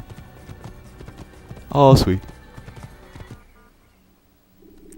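Horse hooves clopping in the Assassin's Creed video game, a steady rhythm of close hoofbeats under someone talking, with one louder burst of noise in the middle before the sound drops away.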